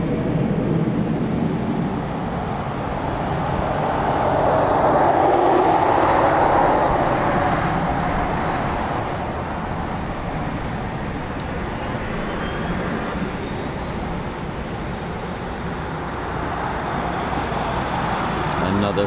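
Eurofighter Typhoon FGR4 jet spools up at an RAF station, a steady broad engine roar that swells to a peak midway and then holds at a lower level, heard from a distance.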